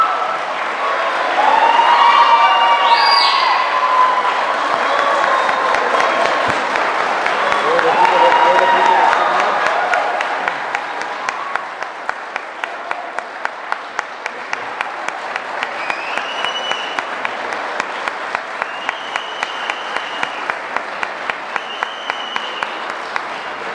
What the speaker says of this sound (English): I've never seen a city attorney get an applause like that